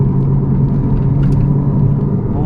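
A 1992 Audi Coupé Quattro V6 driving gently, a loud, steady low engine drone and road rumble heard from inside the cabin, continuous and unbroken with no talk.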